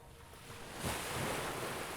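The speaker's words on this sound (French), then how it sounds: "Sur ce rivage, le va-et-vient des vagues" Ocean waves wash onto a sandy beach shore, a soft hiss that swells into a broad rushing surge midway and stays full, faint and airy with wind, no voices.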